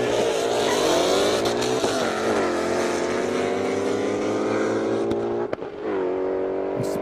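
A 2012 Ford Mustang GT makes a fast pass down an airstrip at a drag event, its engine a loud, sustained high roar that holds steady for several seconds before a brief shift dip and then carries on strongly.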